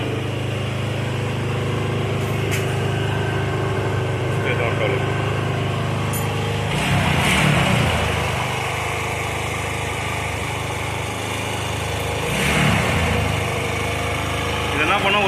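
A seized Apache motorcycle engine runs and smokes, giving off a steady close droning idle with a low hum throughout and a couple of brief revs, while someone talks over it.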